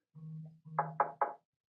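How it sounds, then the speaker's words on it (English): Three sharp, evenly spaced knocks on a door, close and fairly loud, preceded by a low steady hum that fades before the knocking begins. "That's that door knocking."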